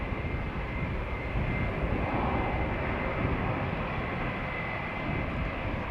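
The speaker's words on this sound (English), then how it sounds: "Turkish Airlines A321, which will be going to Istanbul in a moment" A Turkish Airlines Airbus A321 jet departing Amsterdam Schiphol Airport, heard up close as a loud, sustained engine roar that swells slightly midway and stays dense and unbroken, with no talking.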